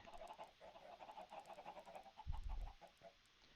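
Minecraft chickens cluck in quick, repeated bursts throughout, fairly faint, with a soft low thump midway.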